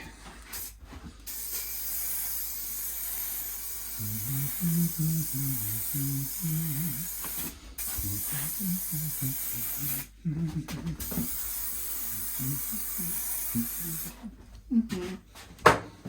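A spray can of clear lacquer hisses in long, steady bursts onto a Telecaster-style guitar body, with short pauses between passes and someone talking through much of it.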